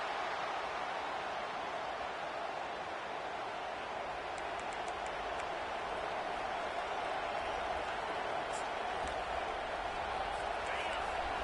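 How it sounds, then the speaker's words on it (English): Stadium crowd at a college football game, a steady broad roar of many voices that stays level throughout, with a few faint whistles, while a commentator talks. "Listen to the crowd energy here in the early going."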